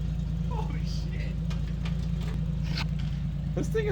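A Lexus IS300 with a 1JZ engine and an open downpipe idles in a steady, low, even hum, fairly quiet and smooth, while people talk nearby.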